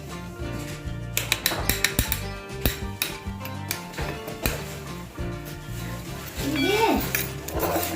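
A spoon scraping and clinking against a bowl while curd is added and stirred in a home kitchen, a close, busy patter of metallic taps and scrapes with people talking over it.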